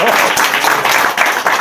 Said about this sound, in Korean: 박수를 할 거면 이왕이면 해보세요.